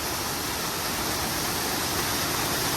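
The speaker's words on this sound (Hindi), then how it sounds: "केदारनाथ के रास्ते में ना आपको ऐसे बहुत सारे खतरनाक झरनों को पार करके जाना पड़ेगा" Waterfall on the Kedarnath trek during monsoon rain, a loud, dense, steady roar of falling water close by, with no voices.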